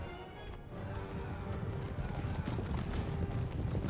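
Cavalry horses galloping across the battlefield in Empire Total War, a dense continuous rumble of many hooves with battle noise, moderately loud and building steadily without talk.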